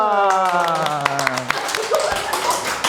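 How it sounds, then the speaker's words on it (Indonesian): A few people clap briefly in a talk-show setting, sharp scattered claps mixed with voices and a chuckle. "Tepuk tangan dong."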